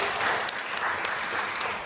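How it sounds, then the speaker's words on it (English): Participants at a group discussion training session of a summer school program give a short, even round of applause, a dense patter of many hands clapping at moderate volume. "Can we give them a round of applause?"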